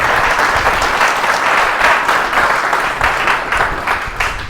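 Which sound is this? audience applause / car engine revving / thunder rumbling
audience applause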